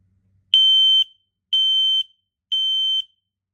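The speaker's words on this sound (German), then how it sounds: "This is only a test. The alarm will sound loudly." X-Sense combination smoke and carbon monoxide detector sounding its smoke test alarm: three loud, piercing electronic beeps, each about half a second long, evenly spaced a second apart, with no other sound.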